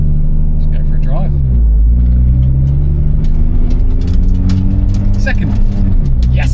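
A Nissan GTR R35 with rear brake pads held by cable ties pulls away under a loud, close engine drone that rises and shifts as it accelerates, with people speaking over it.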